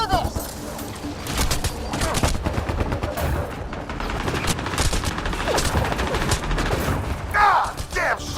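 Gunfire from the video game Mass Effect: Andromeda crackles in dense, overlapping volleys of rapid shots and bursts, loud and chaotic, with a shouting voice mixed in among the shots.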